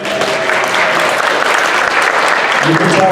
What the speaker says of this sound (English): let's give Mason a round of applause